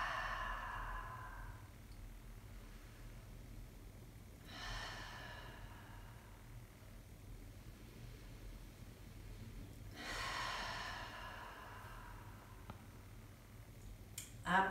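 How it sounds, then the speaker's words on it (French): Slow, deliberate breaths drawn in through the nose and released through the mouth during a pregnancy breathing exercise, three soft airy exhalations spaced several seconds apart, close and quiet over a low steady hum. "Inspirez par le nez et relâchez la respiration par la bouche."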